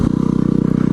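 A combustion-engine off-road vehicle on a trail idles with a loud, close, rapidly pulsing engine throb that holds steady for about a second.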